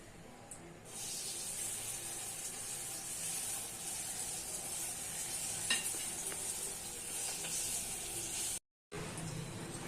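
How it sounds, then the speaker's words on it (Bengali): Sweet boras, light whipped batter fritters, frying in hot oil in a wok over lowered gas heat, giving a steady close sizzle and hiss with faint stirring clinks throughout, briefly dropping out near the end. "নিয়ে গ্যাসের আঁচটা কমিয়ে দিয়ে আমি একে একে বড়াগুলো ভেজে নেব।"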